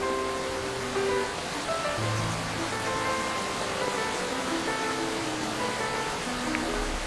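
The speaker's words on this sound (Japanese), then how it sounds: "なんか雨が降ってますね。" Rain falls outside in the nuclear power plant simulator game Nucleares. It is a steady, even hiss of rainfall that stays at a moderate level throughout, with no voices.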